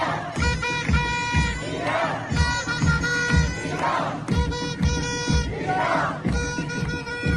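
A huge rally of Iranian protesters numbering in the thousands to tens of thousands, roaring and chanting in a steady rhythmic swell that fills the whole stretch.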